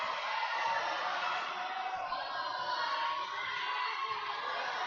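Crowd cheering at a provincial lead and top rope climbing finals, a sustained broad roar of voices and whoops from spectators, steady and fairly loud throughout.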